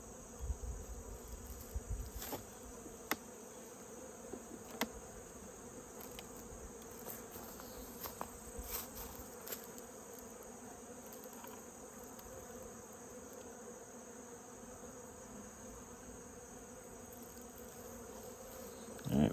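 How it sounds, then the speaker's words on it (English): Honey bees buzz around an open hive, a faint, constant drone with scattered brief louder passes as individual bees fly close by the listener. "I see some extra bees flying around."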